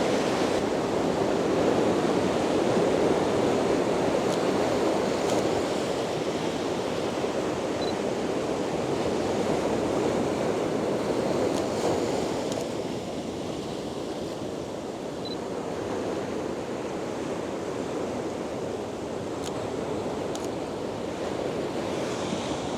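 Ocean waves roll onto a beach in a continuous, loud rushing wash. The surf swells and recedes with wind buffeting the microphone, then eases slightly in the later half.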